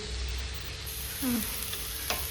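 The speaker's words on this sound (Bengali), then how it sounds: "এখানে চিকেনটা ভাজতে দিয়েছি, উইথাউট অয়েলে হবে" Marinated chicken frying without added oil in a pan, cooking only in its marinade oil, gives a low steady sizzle, with a brief scrape of a stir partway through and a small clink near the end.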